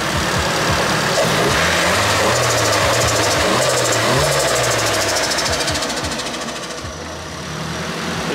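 Nissan S15 drift car idling just after start-up, a loud, close, rough and lumpy engine note with an uneven knocking pulse that dips briefly near the end.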